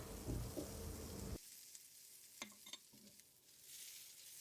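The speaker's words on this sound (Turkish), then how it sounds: "Tekrardan böreğimizi tavaya alarak kızartma işlemini devam edelim" Börek sizzles in butter in a pan: a loud, steady crackle that drops to a quieter hiss, broken by a few light clinks.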